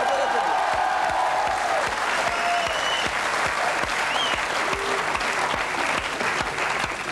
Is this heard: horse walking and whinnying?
no